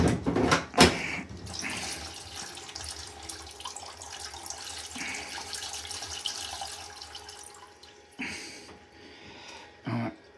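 Water drains and trickles out of bathroom pipes during an en suite refurbishment, a steady running wash with a few louder gurgles and knocks near the start and end, no voices.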